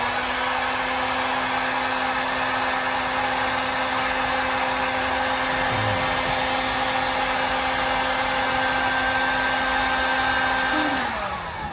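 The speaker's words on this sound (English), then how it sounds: "So I got the heat gun. We're just going to heat up this guy." A heat gun warms a part on a long-parked BMW E34 535i, a steady close blowing whine with constant tones that runs unbroken for about eleven seconds before winding down at the end.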